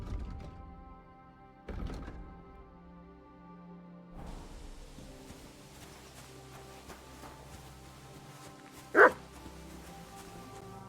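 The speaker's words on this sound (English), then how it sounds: "Barking." In the medieval role-playing game Kingdom Come: Deliverance 2, a dog barks once with a sharp, loud bark toward the end, over a steady tonal game soundtrack and some softer thuds.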